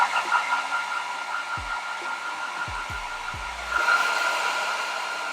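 Hair dryer blowing hot air onto natural hair, a loud, steady close whoosh that holds throughout with a few low thumps and a slight surge in force near the end.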